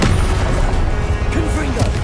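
Confringo fire-spell blasts erupt in Hogwarts Legacy combat, with loud booming and crashing impacts overlapping through the fight alongside in-game voice sounds.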